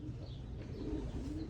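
Belgian pigeons coo softly and continuously, a low murmuring burble from several birds close by, with no talk over it.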